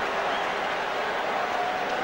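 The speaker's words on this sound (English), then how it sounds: "The second biggest cheer of the day" A stadium crowd at a Wales versus Pacific Islands rugby test match cheers, producing a dense, steady wash of noise with no break.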